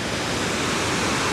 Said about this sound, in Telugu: కరెక్ట్గా వాటర్ ఫాల్ ఇది.